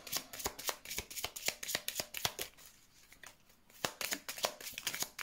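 Tarot cards are riffled and shuffled by hand before a reading, a quick run of sharp, crisp slaps with a short pause midway, close and fairly quiet.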